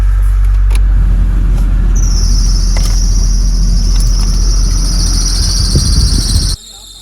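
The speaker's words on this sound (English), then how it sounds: "So why is it making a squeaky noise then?" A 6th-generation Honda Civic engine runs loudly up close with a steady low drone, while a high continuous squeal from a belt whines over it, and the engine cuts off abruptly near the end.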